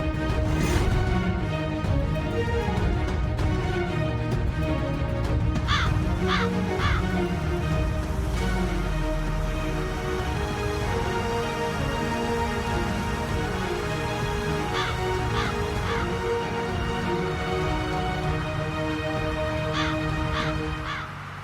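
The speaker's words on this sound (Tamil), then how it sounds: "இந்த பாருமா ராணி, உனக்கு வழிகாட்ட வந்த காக்கா அது கார் பின்னாடி தாமா கத்துது." A crow caws repeatedly from behind a parked car in a Tamil TV drama scene, sharp calls in short bursts over a steady background of music and ambience.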